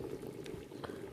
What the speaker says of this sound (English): pot is boiling, our broth